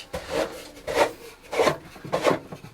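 A table leg fitting is unscrewed inside a Bürstner Eliséo C644 camper van, giving four close, rhythmic grinding rubs as the threaded part is turned, each a short rasp with brief pauses between.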